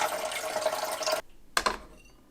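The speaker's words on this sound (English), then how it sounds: "I'll fill the reservoir to the max line." Water pouring into the reservoir of a Keurig K-Duo coffee maker, a steady rushing splash that stops abruptly, followed by a couple of short gurgling drips and splashes.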